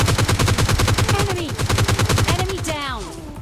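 Rapid automatic gunfire rattles in PUBG Lite, a dense burst of shots with a few brief gaps, plus whooshing effects near the end.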